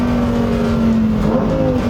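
Lamborghini Huracán STO with its naturally aspirated V10 on a race circuit, a loud, sustained high-pitched engine drone holding steady revs close by, with no talk over it.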